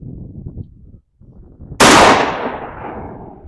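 A 12 gauge shotgun fires a single Winchester Deer Season 1 1/8 ounce slug at an outdoor range, one sharp, loud blast with a long fading tail after a brief quiet pause.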